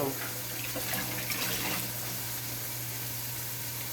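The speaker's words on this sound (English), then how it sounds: "I'm gonna wash that and put that aside" A kitchen tap runs steadily while something is washed under it. The splashing rush is close and continuous, with no talking.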